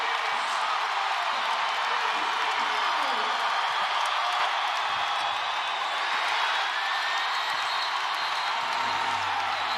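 A packed arena crowd at an Iowa women's college basketball game roars with sustained cheering, whoops and applause that hold loud and unbroken throughout, with a commentator's voice faintly underneath.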